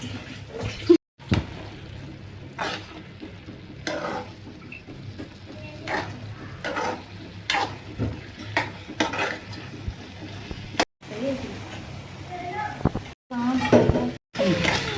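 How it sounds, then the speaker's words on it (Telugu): Carrot halwa stirred in an open pan over high flame, with repeated scraping and clinking strokes of a spoon against the pan, spaced irregularly, alongside faint sizzling and short pauses. "హై ఫ్లేమ్లో ఇలా ఇప్పుడు మూత పెట్టకుండా మనం కలుపుకోవాలి"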